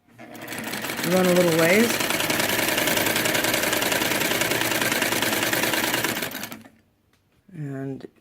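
A Singer 99k sewing machine runs steadily for several seconds with a loud, even mechanical hum, then stops; a person speaks briefly at the start and after it falls quiet.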